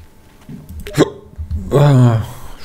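One loud, close hiccup sounds on its own, with a short voiced catch right after it.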